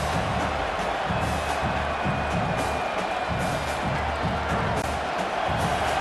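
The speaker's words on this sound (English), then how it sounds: "This crowd trying to make life miserable for this offense" Stadium crowd in a College Football 27 game, Maryland versus Nebraska, a dense continuous roar with swelling cheers and whoops, loud and steady throughout with no talk.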